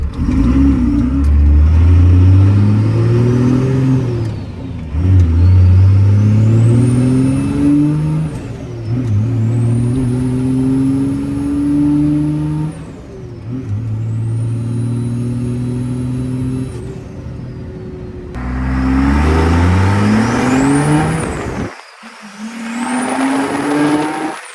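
A Cummins VP44 diesel pickup truck accelerates hard on a road test drive, its engine note climbing through repeated gear-by-gear pulls with a high whine on top. The engine is loud and close, with short lulls at the shifts and no talking.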